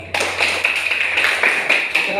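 A classroom of students clapping together, a quick run of irregular claps that carries on steadily for about two seconds, fairly loud and close, with voices mixed in.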